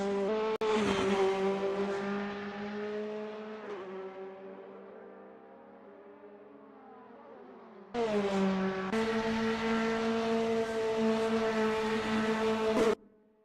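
Race cars scream past at full speed on the Nürburgring in a sim racing game, the engine note rising and falling with gear changes, fading away, then a loud howling pass returning, no talk.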